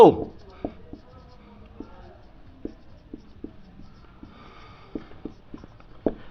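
Chalk or pen strokes of math being worked out on a board or paper, a string of short taps and scrapes at an uneven pace, fairly close and not loud, with no talking.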